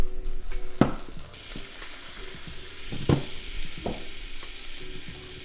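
Pieces of fluke frying in fat in a pan, a steady close sizzle broken by a few sharp hissing bursts and clinks as the fish is laid in and moved.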